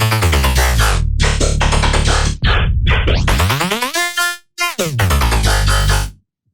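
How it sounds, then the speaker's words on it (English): Bass fed through Ableton's Spectral Resonator effect blares as a loud, dense, metallic and harmonically rich tone, with sweeping pitch glides, brief gaps and stuttering cuts before cutting out; no voices. "Ableton has introduced in the new version this new effect called Spectral Resonator,"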